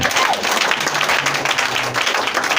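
A church congregation bursts into steady, dense applause, a continuous wash of many hands clapping close and loud, with a few voices faintly mixed in.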